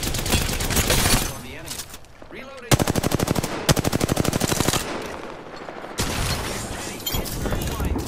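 Automatic weapon fire from an Apex Legends firefight, loud and close: rapid rattling bursts of shots with other gunfire and game effects around them, and voices calling out in the background.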